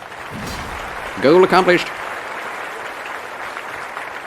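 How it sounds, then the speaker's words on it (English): A steady wash of applause sound effect, played as a soundboard cheer during an Elden Ring Shadow of the Erdtree playthrough, holds at an even level throughout while a short spoken line cuts in briefly over it. "Applause for that."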